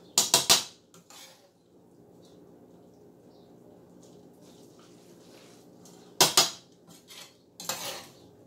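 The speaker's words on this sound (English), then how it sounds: "Got my little spoon. And we're going to go ahead and put that on in here. Start mixing it on up." A spoon clinks and scrapes against a dish while a cheesy oven-baked spaghetti mixture is stirred, two bursts of sharp metallic knocks separated by a quieter stretch of soft scraping and mixing.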